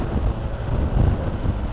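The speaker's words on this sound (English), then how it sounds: "So bloody windy, keeps shutting my bloody visor." Strong wind buffets the microphone in a steady low roar with gusty surges, loud and close, and no voices.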